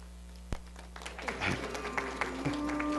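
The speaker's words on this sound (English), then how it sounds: "They love to clap." A church congregation at a Unity service breaks into brief applause, a scattered patter of clapping heard at a moderate distance, with a voice speaking over it.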